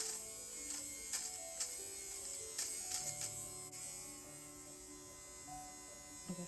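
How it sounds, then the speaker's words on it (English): A small electric fabric shaver runs as a steady, quiet buzzing hum, with a few faint brief clicks and bumps as it moves across the cloth. "some tips about using a fabric shaver"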